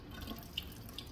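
Cold water running steadily from a tap into a sink, a soft continuous hiss with a few faint drips.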